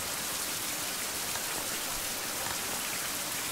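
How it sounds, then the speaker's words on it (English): Steady rain falls on an early, gloomy morning outdoors at a remote fishing area, a dense, even hiss of drops hitting the ground that stays constant and fairly close throughout, with no voices. "It's early, early in the morning and rainy and nasty."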